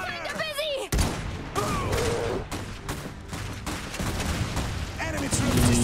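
Sustained battlefield gunfire in the dieselpunk strategy game Iron Harvest, dense loud volleys and bursts rolling on continuously, with in-game voices calling out over the shooting.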